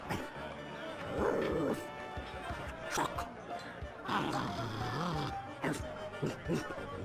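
A dog in Secret of Monkey Island barks in a string of short yips and whimpering woofs, close and fairly loud, mixed in with spoken dialogue.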